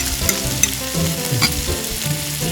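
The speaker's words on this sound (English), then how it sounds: "Stir well until the ingredients become fragrant" Onions, tomatoes, green peppers, mint, garlic, ginger and ketchup sizzle in a pan while being stirred, a continuous close frying hiss with a few soft utensil scrapes and taps.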